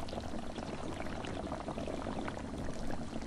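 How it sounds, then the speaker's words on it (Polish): A pot boils in a video game, a steady, dense hiss and bubbling that runs evenly without pause or voices. "To coś się gotuje."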